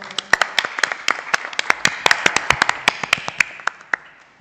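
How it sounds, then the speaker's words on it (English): Audience at a primary schools quiz event claps for a board president, a scattered run of sharp individual claps from a small group, uneven in rhythm and thinning out toward the end. "Give him a round of applause."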